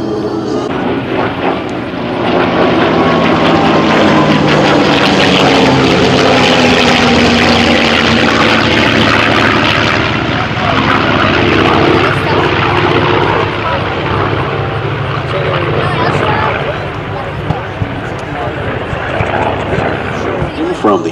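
A WWII propeller warbird flies past at the Warbirds Over the Beach 2021 air show, a loud sustained engine roar swelling and holding across the pass, with an announcer speaking over it.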